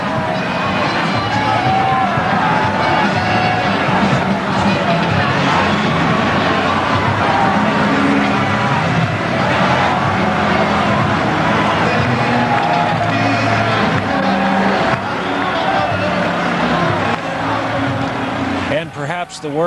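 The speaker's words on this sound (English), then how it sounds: "As we look at some of the thinning crowd on the floor of New York's Times Square" A thinning New Year's Eve crowd in New York's Times Square at the turn of 1999 into 2000, a dense continuous hubbub of voices and distant cheering with traffic-like rumble, loud and unbroken.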